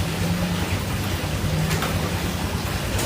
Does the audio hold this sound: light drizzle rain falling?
yes